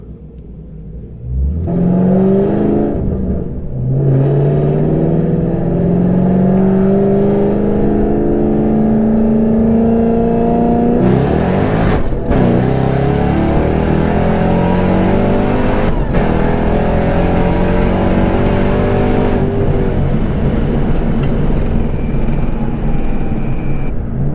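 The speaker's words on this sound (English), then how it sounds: "the plan is to get up to that 40 mark as fast as possible and pretty much just punch it from that point on" An 800 horsepower Mustang on Mickey Thompson Street R tires accelerates hard from a roll, its loud engine note climbing steadily through several gear changes, roaring close and continuous with no talking.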